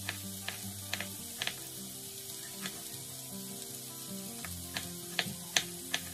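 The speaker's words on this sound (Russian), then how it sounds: "И оставляем так минут на 5, чтобы кабачки немного обжарились." Quiet sizzling of zucchini and onion frying in a pan, with scattered small pops and occasional utensil ticks, no talking.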